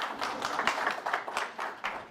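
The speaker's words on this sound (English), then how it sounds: "So applause for Jiří Nantl." Audience applause for a speaker being introduced at a seminar on Industry 4.0 and smart regions, a dense, steady patter of many hands clapping throughout, fairly close and moderately loud.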